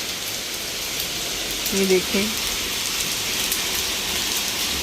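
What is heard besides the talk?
heavy rain with hailstones falling in London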